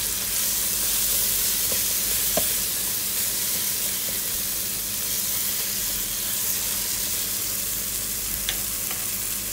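Ingredients gone soft are stirred in a hot pan as clams are about to go in, giving a steady close sizzle and frying hiss with faint scraping stirs, no talk.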